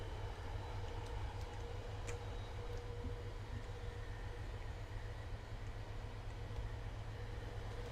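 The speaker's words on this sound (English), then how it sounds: "about time we got the HP46 and double-decker coaches" HP46 locomotive hauling double-decker coaches on the MBTA Framingham/Worcester Line in Train Sim World 5, a steady low rumble of rolling rail noise with a few faint ticks and clicks, no voices.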